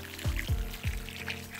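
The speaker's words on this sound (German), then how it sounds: "Richtig schön kräftig einen Schluck Wasser geben." Water is poured onto a newly planted privet hedge plant, making a soft, low pouring and gurgling with a few rhythmic surges in close succession, fairly quiet and alone.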